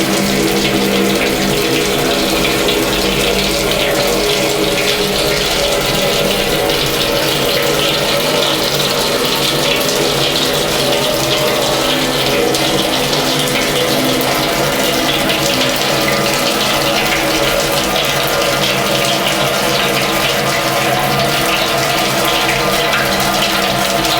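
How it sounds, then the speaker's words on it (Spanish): Water pours steadily into a mash tun with a false bottom, a loud, continuous gushing rush that stays level the whole time, brewing a 50-litre golden ale batch, with no talking. "Ahí empieza a caer agua."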